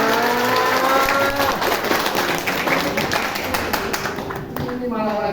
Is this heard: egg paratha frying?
no